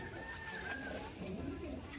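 Low, murmuring coos from Madrasi pigeons in a loft, rolling on steadily at close range through the whole stretch, with a faint thin whistle riding above.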